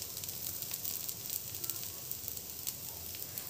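Food fries steadily in hot oil for a Tamil morning tiffin, giving a continuous bright sizzle and hiss with no talking over it.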